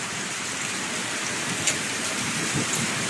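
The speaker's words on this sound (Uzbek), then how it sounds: "Do'l yog'ayapti, dahshat." Steady rain-like hiss of hail pattering on surfaces, with a few sharper hits standing out, in Jizzakh, Uzbekistan.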